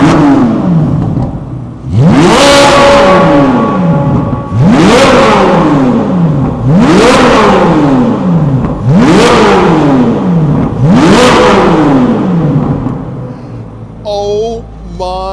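A Corvette C8 Z06 engine revs hard inside a parking garage, five loud, sharp blips in a steady rhythm, each rising quickly and falling away with echo. Faint voices are heard near the end.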